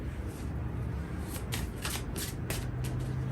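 A deck of tarot cards is shuffled close by, producing a run of quick riffling bursts over a steady soft background, with no speech.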